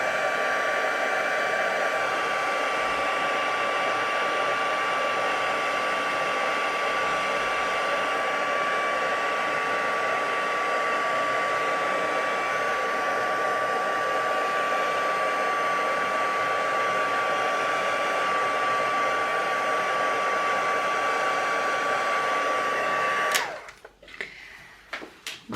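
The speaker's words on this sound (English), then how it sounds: "And they emboss quite quickly on vellum, so this is nice, and you can see the magic happening here, as it always does with heat embossing." A heat gun blows a steady, loud whooshing roar while heat embossing on vellum for mixed media Christmas tags, running unbroken for most of the stretch and then cutting off near the end with a few handling clatters.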